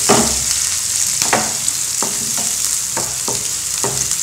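Onion, green chili and curry leaves sauté in hot oil with mustard seeds and urad dal for broad bean poriyal: a constant bright sizzle with about seven sharp spatula scrapes against the pan at irregular intervals, and no voice.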